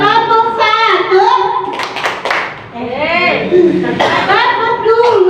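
In a positive-culture classroom activity, a group chants a counting call, with a couple of sharp bursts of clapping breaking in between the loud sung voices.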